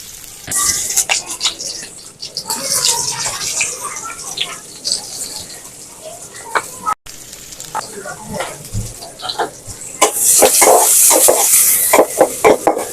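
Chopped onion dropped into hot mustard oil, sizzling loudly and stirred with scraping utensil strokes, close by, with a louder burst of frying near the end.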